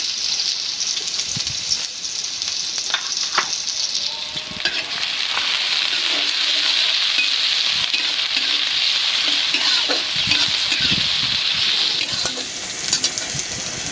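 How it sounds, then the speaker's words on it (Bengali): Onions sizzle loudly in hot oil in a pan for a bitter gourd fry, a constant bright frying hiss with occasional stirring clatter, close up and without talk. "উস্তা ভাজির জন্য, দিয়ে দিলাম পেঁয়াজ।"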